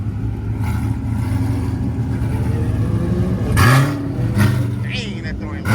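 A lifted truck or car revs loudly on a Texas highway. A steady engine drone builds into two strong rev surges near the end, with people talking over it.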